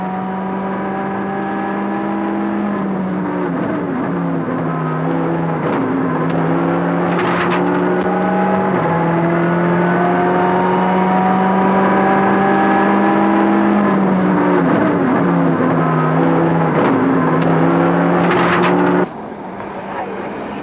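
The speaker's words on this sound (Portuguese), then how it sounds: "os problemas com o motor do Toyota não estavam ainda resolvidos e nos primeiros metros o carro falhava" A Toyota rally car engine, misfiring on a stage at the 2000 Rali Sport Lafões, whines steadily and rises and falls in pitch for about twenty seconds, with brief stuttering bursts along the way.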